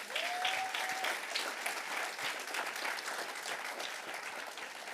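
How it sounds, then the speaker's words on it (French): A church congregation claps together in sustained, dense applause, loud and even throughout, with a faint voice briefly audible early on. "Tu peux acclamer les seigneurs."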